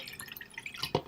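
Water spilling and splashing as it is poured into a glass, heard as a rapid patter of small drips with a sharper, louder splash near the end, close and alone.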